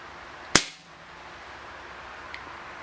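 A Crosman 1377 .177 pellet pistol, pumped ten times, fires a single sharp close crack that dies quickly into a quiet room, with a faint small tick a couple of seconds later.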